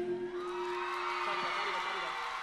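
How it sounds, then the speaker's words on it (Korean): A concert crowd cheers and whoops loudly during the last song, a sustained roar of shouting voices with a steady musical tone running underneath. "소리 질러 마지막 곡이니까 소리 많이 질러주세요"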